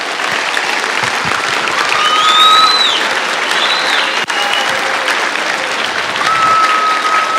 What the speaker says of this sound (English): Okay, can we give a big round of applause once again?